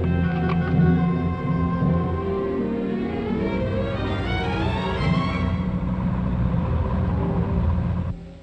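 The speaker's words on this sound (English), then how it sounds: "As long as there are roads, the troops ride in lorries, and so do the mules." Post-war British army lorries carrying troops and mules drive along a road, a steady low engine rumble with grinding mid-range drone that holds evenly and then cuts off at the end.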